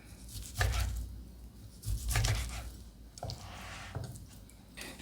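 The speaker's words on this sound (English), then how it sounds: "gonna cut up the slices from the middle" Knife cutting slices from the middle and cap of an aged pork cut at a barbecue demonstration, quiet soft squishy cuts and taps in a few separate bursts.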